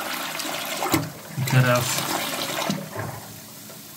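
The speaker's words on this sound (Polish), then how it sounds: "Bo tu woda po prostu jest jak w strumieniu" Water rushes and gurgles through the sump of a marine aquarium like a stream, a close churning flow with a few surges, while someone speaks briefly over it.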